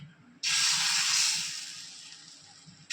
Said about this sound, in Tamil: இப்போ இந்த மாவு எடுத்து அதில் ஊற்றி